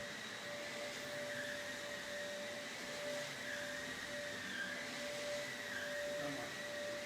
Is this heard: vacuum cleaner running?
yes